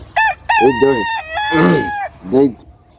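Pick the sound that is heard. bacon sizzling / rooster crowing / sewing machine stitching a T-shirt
rooster crowing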